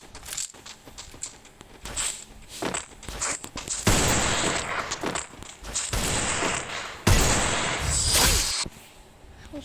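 Video game gunfire in a hectic firefight: sharp irregular shots and bursts crack through, with denser volleys of rapid fire, some swishing movement sounds in between, and no talking.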